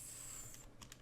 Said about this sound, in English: So let me just type what is